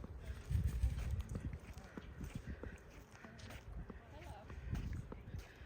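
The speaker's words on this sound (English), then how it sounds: "there's horses right across the way here" Horses near a county park campground in Clemmons, North Carolina give off steady clip-clop hoof sounds and shuffling at moderate distance, with a low rumble of outdoor background noise.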